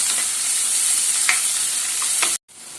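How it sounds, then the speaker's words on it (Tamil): Onions and curry leaves hit hot oil already seasoned with fennel seeds, giving a steady, loud, close sizzle with a few scraping stirs before it cuts out abruptly near the end. "கருவேப்பிலையும் வெங்காயமும் போட்டுக்கலாம்"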